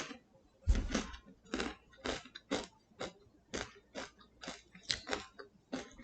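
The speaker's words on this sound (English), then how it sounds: "I was like, let me eat some Doritos." Doritos chips being chewed close to the microphone, a run of crisp rhythmic crunches, roughly a dozen bites and chews spread evenly, with no talking.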